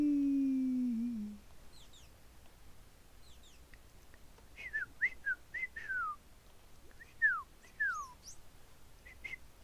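A person whistles short rising and falling chirps in imitation of a dolphin, several quick squeaky bursts in irregular clusters after a quiet stretch, fairly faint and without speech.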